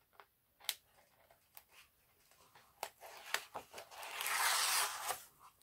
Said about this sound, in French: on enlève tous les scotch